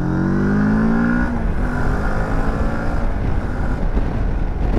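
A Moto Morini X-Cape 650 motorcycle pulls away in second gear from around 3000 rpm. The engine note rises briefly, then settles into a loud, rough drone. Wind noise buffets the microphone while riding.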